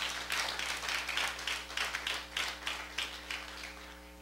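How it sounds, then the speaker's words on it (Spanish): A church congregation claps together at a service, producing soft, fairly distant rhythmic claps in a steady beat over a faint low hum. "Denle un aplauso fuerte al Señor."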